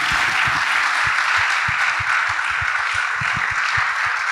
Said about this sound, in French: Nous acclamons Jésus